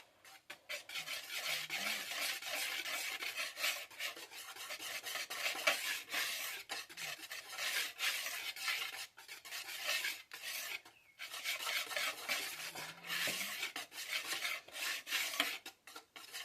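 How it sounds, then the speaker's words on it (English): Oatmeal cookie ingredients mixed in a bowl, giving close, continuous rasping and scraping strokes in long runs broken by short pauses, with no talk. "we're going to give this a quick mix"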